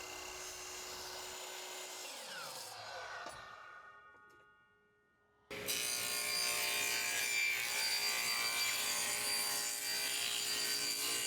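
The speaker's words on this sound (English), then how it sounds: "I'm gonna go ahead and cut it down to its final dimensions" A wooden board for a serving tray is sawn down to its final dimensions, loud steady cutting with a tool that winds down and stops mid-way, a brief quiet gap, then the cut resumes at full, constant volume.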